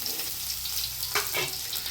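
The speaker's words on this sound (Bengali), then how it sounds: "দিয়ে দেবো পেঁয়াজ কুচি, রসুন কুচি, কাঁচা লঙ্কা চেরা, আর একটা গোটা শুকনো লঙ্কা" Chopped onion, garlic, slit green chili and a whole dried chili frying in oil with nigella seeds give off a soft, steady sizzle. One brief scrape or clatter comes near the end, and the cooking is heard close up without any voice.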